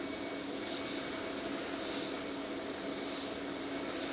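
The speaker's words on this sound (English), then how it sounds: "So we're about 15 psi now. And that's spraying really, really nice." A steady, soft airy hiss of an airbrush spraying Crawford & Black acrylic ink at about 15 psi runs continuously, close and even, with faint rhythmic swells.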